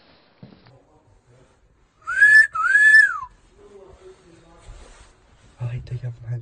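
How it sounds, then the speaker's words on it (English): A person hiding in a cupboard on an abandoned street whistles two short rising-and-falling notes close by, with quiet muffled sounds and faint talk around them. "You're whistling too much."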